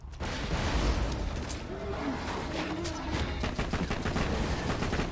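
Borderlands 2 firefight with grenade blasts and gunfire: dense rapid shots crackle over a heavy low rumble, with a burst of explosive impact early and continuous shooting throughout.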